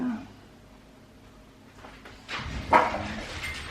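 Four dogs barking inside a house decorated for Christmas: a few short barks and yips rise near the end, fairly faint and somewhat distant, over a quiet room.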